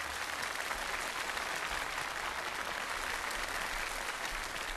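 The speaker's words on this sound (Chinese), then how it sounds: "掌声欢迎。" A studio audience at a Chinese ceramics competition show applauds as a ceramic artist comes onstage to present her celadon porcelain piece. The clapping is steady and even throughout, with no voices over it.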